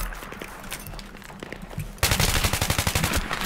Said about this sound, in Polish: L86A2 to jest karabin, który wybrałem i którym będę się tutaj żwawo, ochoczo posługiwał